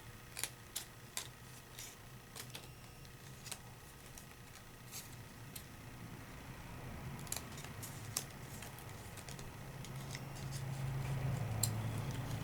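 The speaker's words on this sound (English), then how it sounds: "And then I'm just going to cut it down to size. Snip there. Snip the ends off." Scissors snip card down to size while making a scrapbook card, giving scattered quiet clicks and cuts at close range, some in quick pairs, over a low steady background hum.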